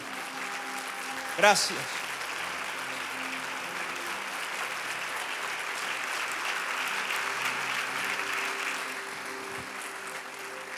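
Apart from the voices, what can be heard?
congregation applauding in church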